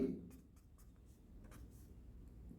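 Letters are written on a board in a maths class: soft, faint strokes and taps come in short bursts against low room hum, with no clear talk.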